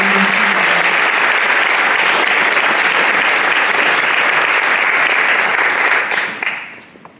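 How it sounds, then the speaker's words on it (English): Sustained audience applause fills a math honor society induction ceremony, steady and dense for about six seconds before tapering off at the end. "Let's give everyone a round of applause."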